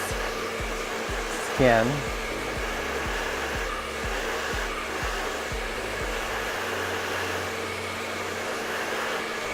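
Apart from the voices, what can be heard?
hair dryer blowing gentle burst of heat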